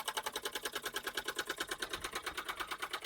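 Stirlingkit model steam engine driving a small generator, running with a fast, even chuffing pulse of roughly eight beats per second, close and steady with no talk.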